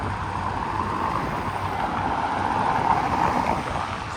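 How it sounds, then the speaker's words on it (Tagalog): A strong sandstorm wind in Kuwait: a steady, dense roar of wind and buffeting across the microphone, continuous and loud throughout, with no talk. "Kaya kailangan ko na pumunta sa sobrang lakas po na sandstorm"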